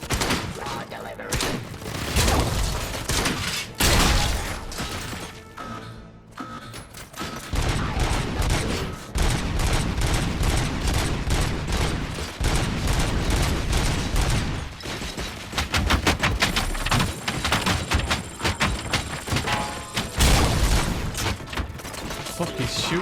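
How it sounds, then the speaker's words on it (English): Gunfire in the video game RoboCop: Rogue City, with dense, sustained bursts of automatic shots and heavy impacts continuing loudly for most of the stretch, with a brief lull partway through. "Fuck, he's shooting me back there."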